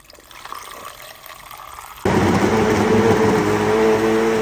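Water is poured into a thick protein smoothie with spirulina powder, starting abruptly halfway through as a loud, steady, full-bodied rush that continues to the end after a quieter background.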